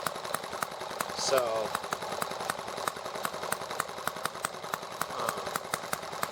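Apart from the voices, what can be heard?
small engine idling during carburetor needle adjustment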